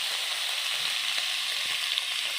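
Mushrooms and red bamboo shoots stir-fry in a hot pan, giving a steady, even sizzle and crackle close up with no break and no voices.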